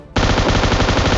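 Rapid automatic gunfire from a PUBG Mobile match, a loud, dense burst of shots that bursts in abruptly after a brief quiet start and holds steady and close.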